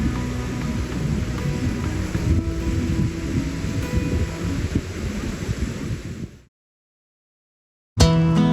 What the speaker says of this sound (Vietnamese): tiếng sóng vỗ rì rào vào bờ hồ